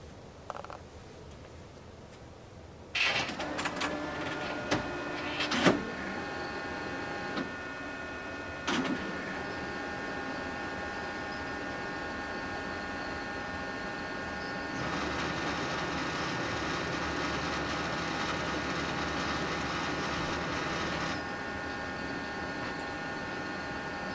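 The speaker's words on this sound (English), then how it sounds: "To switch the printer on, push here and get ready for it to make a little bit of a noise." A label printer is switched on and boots up, starting with a click and mechanical clunks, then settling into a steady hum and whir that grows slightly louder midway and continues at close range.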